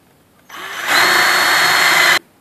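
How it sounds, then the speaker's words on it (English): A power drill bores holes through the frame of a Fresnel lens stand, starting softly and then ramping up to a steady, loud whine that holds for over a second before cutting off abruptly. "Now we're drilling the holes to attach the lens."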